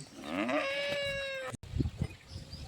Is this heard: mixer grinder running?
no